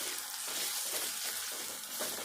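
Ginger garlic paste fries in a pan with a soft, continuous sizzle and faint stirring scrapes, fairly quiet and close, no talking.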